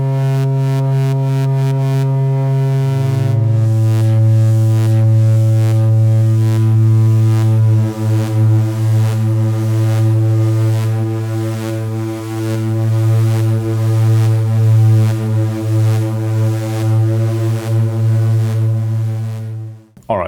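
A Make Noise Strega synthesizer holds a loud, sustained low drone whose pitch drops early on, then shimmers as a self-cycling envelope sweeps its overtones in slow waves, alone with no speech.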